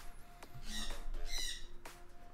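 Harsh squawks from a pet bird repeat several times at fairly close range, with a couple of louder, drawn-out calls among shorter cries.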